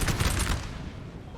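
Musket fire from massed infantry volleys aimed at advancing skirmishers in the Napoleon Total War battle game, a dense crackling fusillade that is loudest in the first half-second and then thins into a lower rumble.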